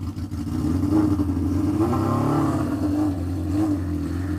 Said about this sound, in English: And the bike is alive! God damn, this thing is loud.